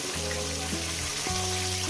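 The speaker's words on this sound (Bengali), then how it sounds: "এখন চারটে মাছ হচ্ছে বন্ধুরা একেবারে ভেজে নিয়ে দিচ্ছি" Katla fish frying in hot oil, a steady close sizzle and crackle running continuously with a low hum underneath, moderately loud throughout.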